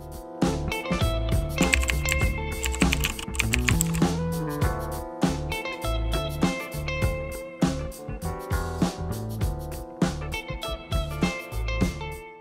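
Computer keyboard typing, heard as a quick, uneven run of close clicks that carries on steadily through the whole stretch with no talking.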